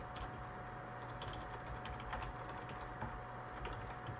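Steady typing on a computer keyboard, a run of soft, closely spaced key clicks at even loudness over a faint constant hum, with no voices.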